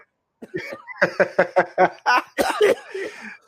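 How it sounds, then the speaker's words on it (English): A burst of harsh coughing, several rapid hacks in a row, ending in a wheezy, laugh-like exhale, close and loud. "that was a good cough though"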